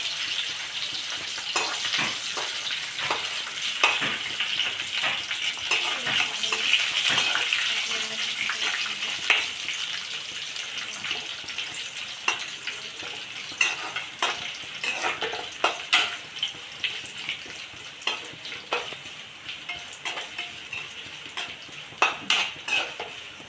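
Tempering of spices, coriander and dried red chillies sizzling in hot oil in a pan for sambar, a steady close crackle with sharp spits and pops throughout, no talking.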